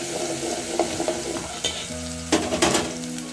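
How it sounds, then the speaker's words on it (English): Onions sautéing in hot cooking oil for a potato and pea minji stew, a steady soft sizzle close by with scraping stirs and a few light clinks of utensil against the pot. "I'll go in with my onions, and I'm going to saute this for about a minute"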